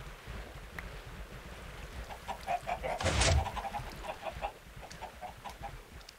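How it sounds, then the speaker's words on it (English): Video game chickens on an egg farm give repeated soft clucks, and a brief louder burst of sound cuts in midway through the run of clucking. "Chicken lays an egg."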